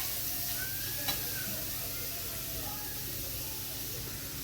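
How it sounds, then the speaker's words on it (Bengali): Grated carrot fries in ghee in a pan for carrot halwa, giving a steady, close sizzle with a faint stir scrape, and no voices. "গাজরটা দিয়ে আমি ভালো করে একটু ভাজা ভাজা করে নেবো"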